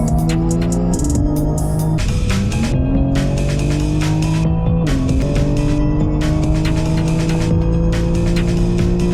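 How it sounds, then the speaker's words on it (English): A 750 bhp car runs up on a dyno, its engine roaring loud and continuous with pitch climbing through several gear steps, harsh and close throughout with no voices. "we're going to run it up on the dyno and get some baselines"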